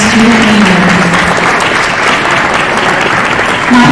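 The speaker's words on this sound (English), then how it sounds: "Can we have a big round of applause for all of our student leaders?" Audience applause for student leaders at a school board meeting, a dense, steady burst of clapping that holds loud and continuous for the whole stretch, with a faint voice briefly audible beneath it.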